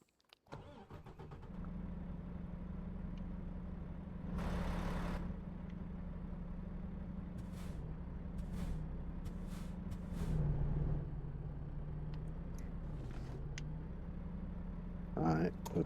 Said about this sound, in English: Alright, put the parking brake on. Turn the engine off.